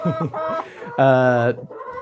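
Chickens cluck close by while birds are fed corn on the ground, a run of short harmonic calls with one longer, louder squawk in the middle.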